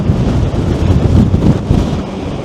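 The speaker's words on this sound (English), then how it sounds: "this wind is blowing my arm about" Strong wind buffets a camera microphone outdoors on a seaside promenade, a loud continuous low rumble with gusty surges and no voices.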